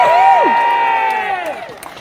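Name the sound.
crowd cheering at NDIS rally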